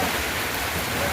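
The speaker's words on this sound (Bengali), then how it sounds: "প্রচুর বৃষ্টি, অনেক বৃষ্টি" Heavy rain pours down steadily during a storm, a dense continuous hiss that stays even and fairly loud throughout with no voices.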